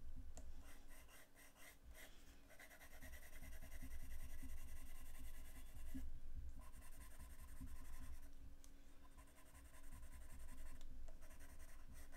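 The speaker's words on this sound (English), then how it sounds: "right now I'm using those Derwent graphic pens" Derwent graphic pens scratch and rub across paper in a random drawing session, soft close strokes coming in quick repeated bursts with short pauses between, quiet and alone.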